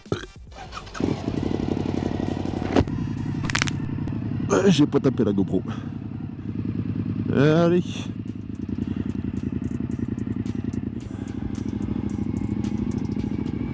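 Suzuki V-Strom 1050 XT motorcycle engine running, with a steady throttle-varying drone, a couple of rising revs, and a rider speaking briefly over it close to the camera.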